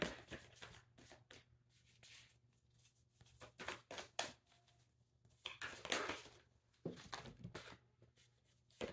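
Tarot cards being shuffled during a love reading, a close series of papery riffling bursts and slides repeating irregularly, quiet and without talk.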